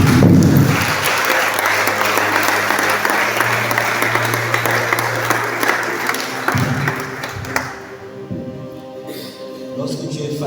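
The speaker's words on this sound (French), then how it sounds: "Je te prie d'acclamer pour le Seigneur." A church congregation bursts into loud, sustained applause and clapping, dense and steady for several seconds before thinning out toward the end, with some crowd voices mixed in.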